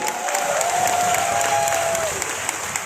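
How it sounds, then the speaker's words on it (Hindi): A large audience at a Vestige business seminar breaks into steady, dense applause for the winning team, loud and sustained, with a faint voice and crowd noise mixed in. "तो एक बार जोरदार ताली हो जाए वेस्टीज और विनिंग टीम के लिए।"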